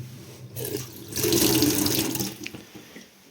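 Water runs from a kitchen tap in a house in Novyi Korohod, Ukraine, in a steady rushing stream, starting after a brief pause and fading near the end, with no voices.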